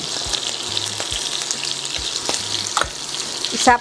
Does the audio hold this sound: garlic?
yes